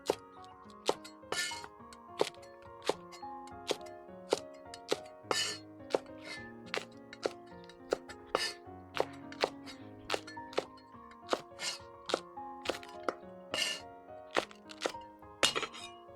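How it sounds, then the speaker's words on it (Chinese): Knife chopping green peppers into chunks on a cutting board, a steady series of sharp, close taps and thunks with no talk. "接着我们来切辣椒，把青椒给它切滚刀片。"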